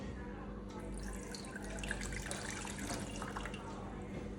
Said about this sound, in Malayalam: ഇട്ടോ വാട്ടർ ഇതിലേക്ക് ഒഴിക്കാം.